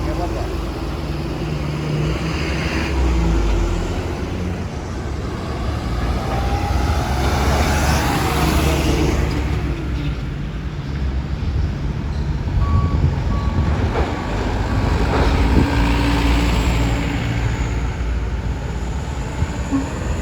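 Trucks and buses rolling off a ferry at Merak port, with engine rumble, clanking over the ramp and intermittent reversing beeps, while people talk and shout nearby.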